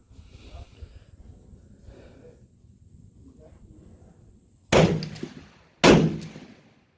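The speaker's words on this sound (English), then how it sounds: "let's go ahead and get some firing in" Two loud rifle shots crack at an outdoor range about a second apart, each with a sharp onset and a brief decaying tail, after several seconds of quiet background with faint breathing.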